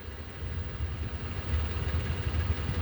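A car engine idles with a steady, fairly faint low rumble and slight vibration that swells a little midway.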